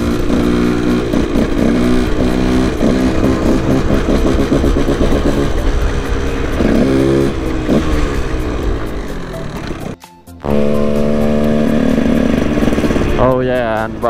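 A KTM motorcycle engine roars close and loud while riding, its pitch swelling and falling as the throttle shuts for engine braking, cutting out briefly near the end before revving hard again.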